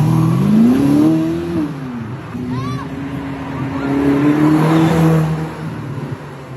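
A 2021 Ferrari SF90 sports car revving and accelerating nearby, a loud engine note climbing in pitch, dipping briefly, then rising again, with a voice talking over part of it.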